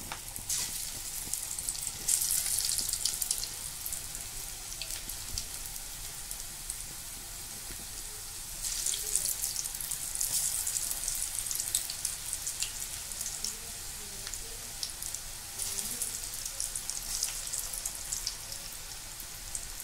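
Carrot pakoda frying in hot oil, a continuous crackling sizzle that swells and eases in waves over about twenty seconds, close and steady with no talk.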